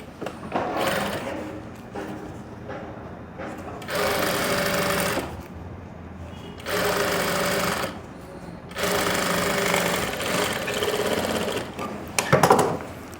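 An electric sewing machine stitches a zip onto the fly of Korean-style trousers in three long, steady whirring runs separated by short pauses, loud and close, ending with a few quick clicks and knocks.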